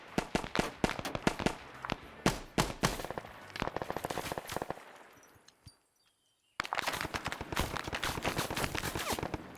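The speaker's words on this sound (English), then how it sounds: "More shooting coming in." Gunfire in a Vietnam-era PvP match, sharp rapid shots and bursts cracking repeatedly, then a brief lull of near silence before dense shooting resumes loudly.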